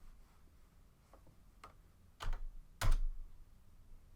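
Several soft, scattered keystrokes on a computer keyboard as a gene name is entered into a search bar, a few faint taps followed by two louder clicks near the end, with no voices.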